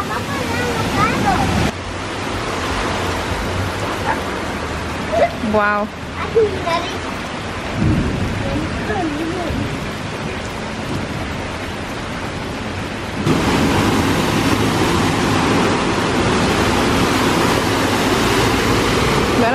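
Floodwater from heavy rain rushes through a street past a stalled car with its hazard lights on, a loud continuous roar and splash, while people nearby talk and exclaim over it.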